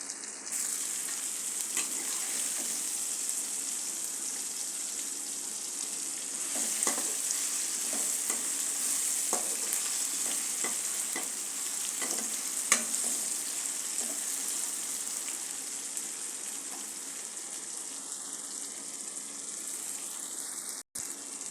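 Onions and tomatoes frying in a pan for upma, a constant close sizzle with scattered crackles and occasional scraping stirs through the long stretch, no voices.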